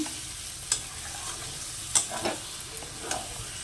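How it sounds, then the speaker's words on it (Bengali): Spice paste sautéing in a pan for a snakehead fish curry, a soft continuous sizzle broken by a few sharp scraping stirs of the spoon, close and fairly quiet with no talking. "মশলাটা আমার কষে গেছে দেখুন"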